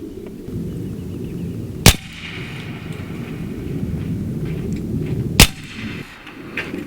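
AEA Terminator .30 caliber semi-auto PCP air rifle firing at small steel gongs on a range: two sharp, loud cracks a few seconds apart over a steady outdoor background hum.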